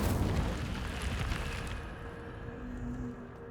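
An Incendio fire spell in the video game Hogwarts Legacy erupts in a loud whooshing burst that roars and then slowly fades into a quieter rumbling tail.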